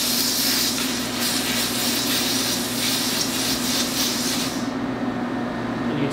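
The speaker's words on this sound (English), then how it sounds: "We use the same steam, just use it on the first setting." A steam cleaner on its first setting hisses steadily while cleaning running shoes, a loud continuous spray that cuts off sharply near the end, with no talking.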